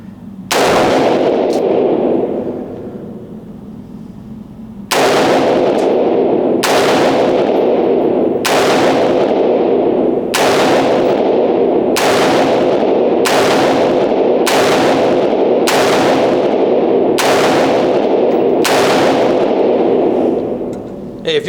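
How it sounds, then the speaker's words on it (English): Rifle gunfire at an outdoor shooting range: a dozen loud, sharp shots at fairly even intervals of about one to two seconds, each cracking close and then ringing off in a brief echo. "That looks like some fancy shooting."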